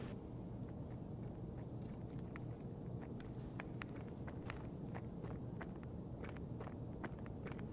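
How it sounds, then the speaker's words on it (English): In the video game Escape From Tarkov, another player runs nearby, producing faint, irregular footstep thuds over a constant ambient rumble. "Can hear someone running around."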